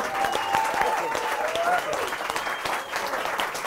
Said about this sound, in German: Applaus, Nadine Fingerhut